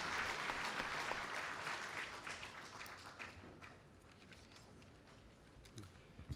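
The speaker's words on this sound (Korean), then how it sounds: "다시 한번 뜨거운 박수 부탁드립니다" An audience at a political party's public interview event applauds warmly. The clapping is loud and dense at first, then thins and fades into scattered claps.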